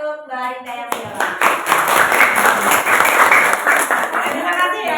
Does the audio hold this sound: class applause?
yes